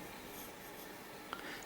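A pencil shading across paper, a soft, steady scratchy rub that runs quietly and continuously, with a faint tap near the end.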